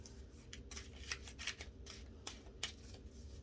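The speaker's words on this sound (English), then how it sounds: "I'm just gonna pick it out and shuffle." Tarot cards being shuffled by hand, faint, with soft repeated riffling and tapping bursts at irregular intervals against a low background hum.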